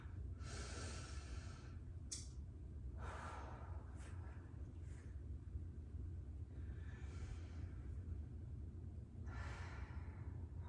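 Slow, deep breaths during a yoga pose, several long airy inhales and exhales close up over a steady low background hum, with no talking.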